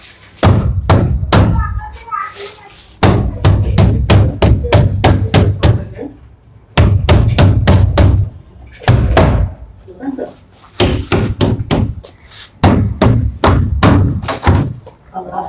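A hammer pounds on the packing box of a lanyard heat press machine to open it, landing loud, close blows in rapid clusters separated by brief pauses.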